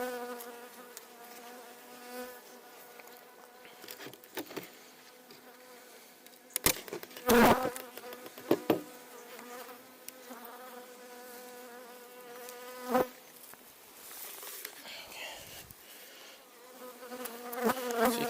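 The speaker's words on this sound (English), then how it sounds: "So you can see we have loads of bees in there feeding away, which is good." Honeybees feeding inside an open beehive make a dense, continuous buzzing close up, broken by a few sharp knocks and bumps from handling.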